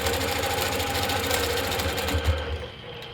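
A longarm quilting machine stitching in the ditch with 40 weight thread, a loud, steady mechanical whir with rapid needle chatter that runs continuously and close, no talk over it.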